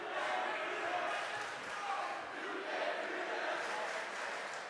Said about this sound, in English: That Chelmsford's crowd is alive right now.